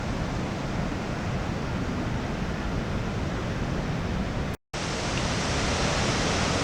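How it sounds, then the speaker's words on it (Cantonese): A small waterfall at Hukou on the Yellow River gives a loud, dense, unbroken roar of rushing water with no talking, broken only by one very brief dropout. "我哋首先就睇睇個小型嘅瀑布仔先啦"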